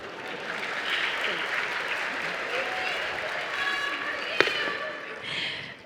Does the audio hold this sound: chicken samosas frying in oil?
no